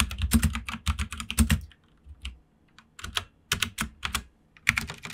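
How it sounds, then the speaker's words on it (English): Rapid bursts of typing on a computer keyboard, keys clattering close up, with a brief lull in the middle before the tapping resumes. "What I'll do is I'll start typing"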